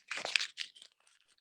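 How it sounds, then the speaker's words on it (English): Paper is ripped off and crumpled up close by, a sharp tearing burst followed by a few fading crinkles, heard alone. "You get to rip it off and crumple it up."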